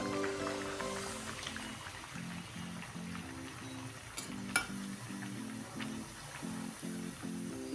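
Kandache puri, onion puris, fry in hot oil with a steady soft sizzle and bubbling, fairly quiet and close, with a faint musical tone running beneath and a brief sharp tap partway through.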